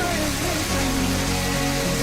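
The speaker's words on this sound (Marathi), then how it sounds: "पाऊस तर चालूच आहे" Steady monsoon rain pouring at Lohgad fort near Pune, a dense even hiss of falling water with a few faint tonal sounds beneath it.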